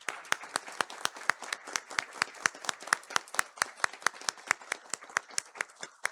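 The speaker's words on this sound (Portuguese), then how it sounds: "Vamos aplaudir essa equipe aqui" Audience at a church meeting applauding the team, a dense rhythmic round of clapping with evenly spaced sharp claps sustained for several seconds, moderately loud and slightly distant.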